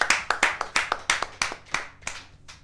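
A handful of people clap for a correct answer in a Bible quiz game, a sparse, close run of distinct hand claps in an uneven rhythm that slowly thins out.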